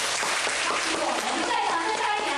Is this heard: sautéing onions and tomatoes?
no